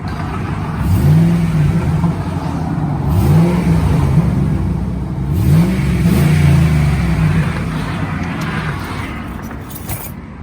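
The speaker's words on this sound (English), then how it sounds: "That's gonna be the last time y'all hear my truck like that." A Jeep truck's engine revs hard through its exhaust three times in a row, each rev rising and falling over a loud, steady idle rumble close by, with no talking.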